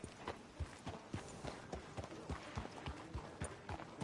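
Horse hooves from Red Dead Redemption 2, a steady rhythmic clip-clop of a walking horse, evenly paced and moderately close throughout.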